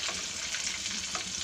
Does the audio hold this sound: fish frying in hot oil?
yes